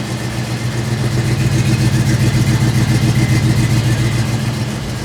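A Chevy C10 truck with a custom-built exhaust rumbles loud and close, its engine held at a steady, throaty drone with a slight rise and fall for the full stretch.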